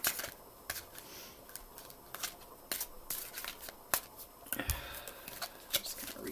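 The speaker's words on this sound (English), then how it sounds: "Shuffle that back in there." Tarot cards being shuffled by hand, with quiet, irregular riffling and soft snapping bursts spread across a few seconds, close by and alone.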